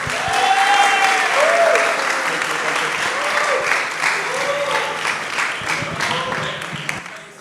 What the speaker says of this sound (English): Let's clap your hands for Lou, Wellison, William, Andre, Alan, João